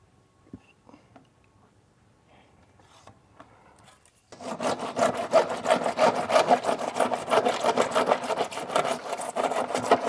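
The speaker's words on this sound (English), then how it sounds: "Now I'm going to cut that pipe first." A rectangular downpipe is cut by hand. After a few quiet seconds of faint handling noises, a fast run of rhythmic rasping saw strokes starts and continues loud and close.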